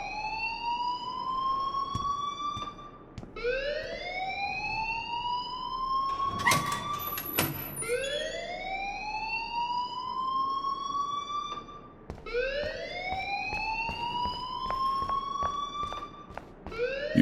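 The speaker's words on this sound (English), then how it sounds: "please turn off that alarm since that's your job." A school alarm in the video game Life Is Strange wails in long rising sweeps that repeat steadily, loud and continuous, with a brief clatter of noise partway through.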